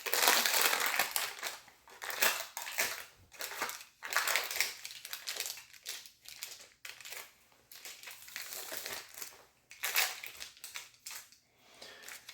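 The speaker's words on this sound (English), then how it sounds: "We're going to remove the parchment." Parchment paper peeled away from a still-warm 2 lb American fruitcake, giving close, irregular bursts of crinkling and crackling with short quiet gaps between pulls.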